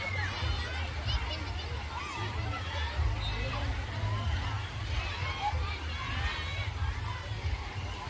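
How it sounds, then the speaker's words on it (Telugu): Crowd of riders screaming and shouting on a water ride at Wonderla amusement park in Hyderabad, a continuous babble of yells over steady low rumble of rushing water and machinery, moderately distant. "ఎలా అరుస్తున్నారో చూడండి సౌండ్స్ అందరూ."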